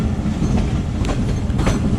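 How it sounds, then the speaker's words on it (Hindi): Awam Express passenger train running just after leaving Taxila station, a loud, close, continuous rumble with rhythmic clickety-clack of the wheels and no talk. "ये गाड़ी अभी टेक्सला से निकली है, अभी पिंडी जाएगी"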